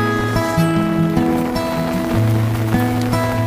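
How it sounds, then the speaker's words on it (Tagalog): Heavy rain falls hard and steadily during a rice harvest in the countryside, a dense constant hiss with tonal hum and clatter underneath. "So nakikita nyo naman ang lakas na ng ulan"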